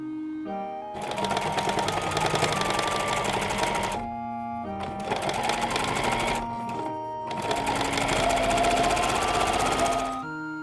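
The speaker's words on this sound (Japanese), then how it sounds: "タックを寄せて仮縫いしよう。" A sewing machine stitches small fabric scraps being quilted and tacked together, running in three long steady buzzing stretches with brief stops between them, close and fairly loud, with no voices.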